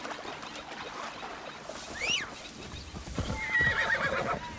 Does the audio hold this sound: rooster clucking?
no